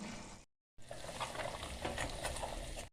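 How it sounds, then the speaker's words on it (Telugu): Milk cream simmering and sizzling in a pan as ghee is made, a steady dense frying crackle with stirring scrapes, broken by a brief silent gap near the start, then continuing loud and even. "చూడండి ఇది మరుగుతుంది. ఇందులో ఉన్నటువంటి నీరంతా ఇంకిపోతే మనకు నెయ్యి అనేది పైకి వస్తుంది."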